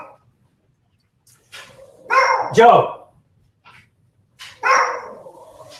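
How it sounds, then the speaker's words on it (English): Small dogs indoors barking at someone at the front door, a few sharp yappy barks in two bursts with a whimper between, close and loud, with a short spoken word just before. "Yes, the puppies are right to get upset."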